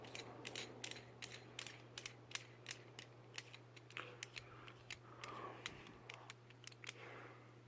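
The threaded top of a Hertz ST25 super tweeter being unscrewed, producing a quiet run of close, sharp clicking ticks in an irregular rhythm over a faint steady hum.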